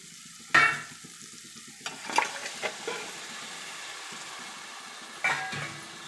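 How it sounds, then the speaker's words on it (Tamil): Chicken pieces go into a pan of yogurt and spices for Tamil-style pepper chicken fry, starting with a sharp sizzling burst, then scraping stir strokes and a second loud sizzle near the end, with no talking. "இப்போ நம்ம சிக்கனை இதில் ஆட் பண்ணிக்கலாம்."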